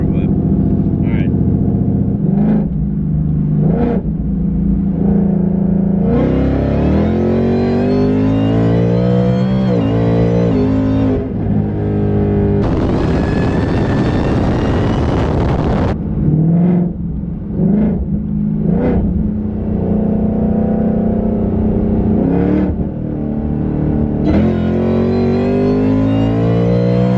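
A supercharged 2019 Ford Mustang with a VMP Odin blower running on E85 accelerates hard along an open road. It is loud and close, with revs climbing sharply and falling at each gear change.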